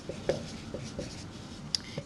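A pen or pencil scratches on paper close to the mic, writing out a sentence by hand in short, uneven strokes with brief pauses between them.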